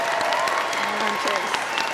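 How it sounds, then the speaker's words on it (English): An audience at a McHenry County College spring commencement ceremony applauds in a steady, crowded roar, with a voice speaking faintly underneath. "Let's give them a big round of applause."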